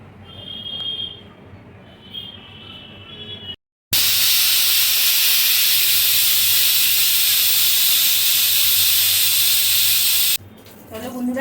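A pressure cooker whistle releases steam while Bengali mutton curry cooks, a loud sustained hiss lasting about six seconds after a brief pause, with quieter kitchen sounds before and after.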